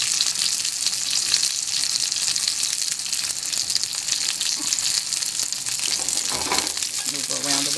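Seafood sizzles on a hot restaurant grill, a loud continuous crackling hiss that holds steady throughout, close up, with a brief clatter of handling near the end.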